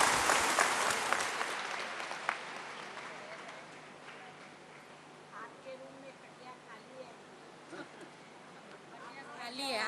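Clapping from a gathered audience at a spiritual bhog offering ceremony, loud at first and then thinning into scattered faint claps over several seconds, with some voices in the background.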